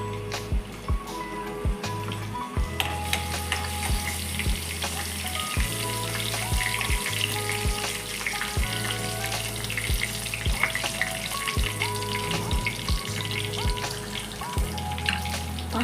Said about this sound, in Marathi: जिरं चांगलं फुललं की त्यात मी हा बारीक चिरलेला लसूण टाकून घेतली.